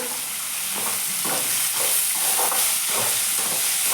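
Tomatoes tossed into onions frying in a pan give a steady, loud sizzle with a soft rhythmic stirring texture running through it, close and continuous with no voices.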